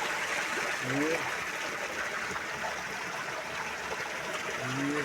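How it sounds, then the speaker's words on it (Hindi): Water gushes through a mesh screen while something fills. The flow makes a steady, fairly close rushing and splashing, and someone speaks briefly over it. "ये देखो कितना बहुत पानी आ रहा है।"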